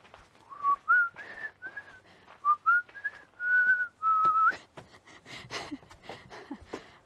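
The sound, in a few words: person whistling an imitation of a siren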